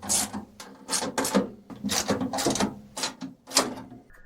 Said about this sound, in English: Here I use a little wrench to get in there.